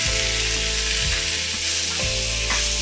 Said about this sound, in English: Fry till lightly golden.